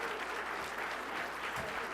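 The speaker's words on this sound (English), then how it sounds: "one more time, a big round of applause" A crowd at an awards ceremony applauds, a dense wash of clapping hands from many people, steady and fairly loud throughout.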